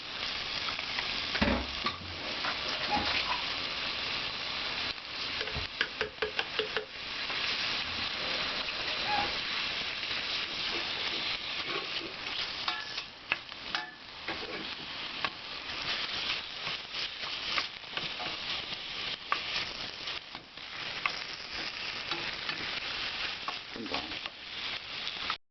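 Kongbiji stew of seoritae black-bean curd being stir-fried in a pan with kimchi juice, giving a steady, close sizzle throughout with scattered clacks and scrapes from a stirring utensil.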